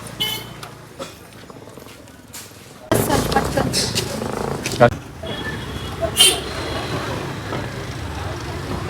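A line of vehicles crawls through busy market traffic, a steady rumble of engines and road noise swelling after a quieter start, with brief horn toots and people talking nearby.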